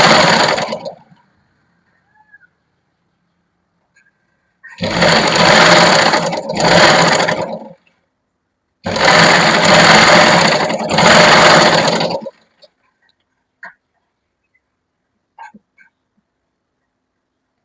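A sewing machine stitches the sleeve seam of a lined kurti in two close, loud runs of about three seconds each, separated by a short pause, with near-silence around them and no talk.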